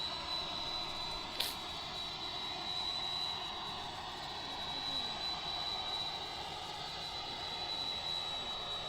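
Boeing 747 jet engines in the Prepar3D v5 flight simulator drone steadily with a continuous broadband roar and a thin high whine, even in level throughout, with one brief click early on.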